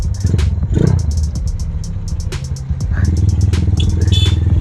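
A friend's red Honda CB motorcycle riding past, a close rumbling engine with loud revving and clattering bursts rising and falling, no talk over it.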